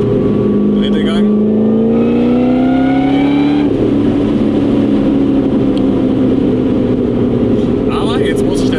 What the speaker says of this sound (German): Erster Gang, man gibt Gas. Dreht einfach nur durch.